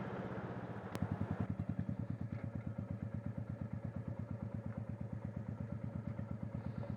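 Royal Enfield 410 big-bore single-cylinder motorcycle pulling up a hill in fifth gear at about 45 mph, a steady, rapid thumping exhaust beat heard up close and alone.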